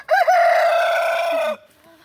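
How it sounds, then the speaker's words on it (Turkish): A single loud, drawn-out call from a sick chicken rises and holds steady for over a second, then cuts off, with no talking. "Bak şu tavuğa abi bak Allah'ını seversen bak."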